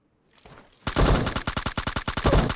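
Rapid bursts of M4 rifle fire in PUBG, a dense run of sharp, loud shots after a faint start, firing continuously until the end with no talk.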